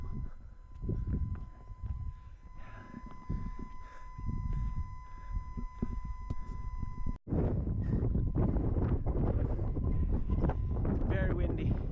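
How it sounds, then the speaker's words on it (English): Strong wind buffets the microphone near the summit of Arthur's Seat on a morning run, a loud, continuous low rumble that surges sharply louder partway through, with faint talk beneath it in the first half. "Very windy up here."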